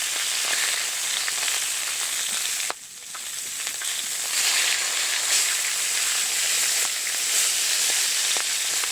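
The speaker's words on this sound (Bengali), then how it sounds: "মাছগুলো ভাজা হয়ে গেছে, তুলে নিচ্ছি।" Pieces of aar fish from a Sundarbans river fry in hot oil with a loud, steady sizzle and hiss that dips briefly near the start, then carries on evenly.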